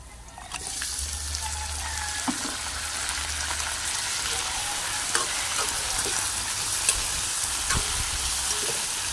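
Steady, close sizzle of a kilo of chicken frying in a pan with sautéed garlic, ginger and onion for tinola, a continuous crackling hiss with a few small pops and no talking.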